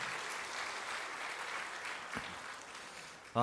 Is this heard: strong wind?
no